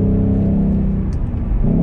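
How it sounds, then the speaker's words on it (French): A Ford GT engine revs loud and close, a dense throaty roar with rising and falling pitch held throughout the short stretch, with no voices over it. "Le son du moteur est quand même super sympa."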